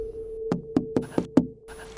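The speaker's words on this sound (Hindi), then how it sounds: "मैंने दरवाज़ा बजाया।" Knocking on a door: five sharp raps at an uneven pace, near and fairly loud, over a steady low hum with no voices.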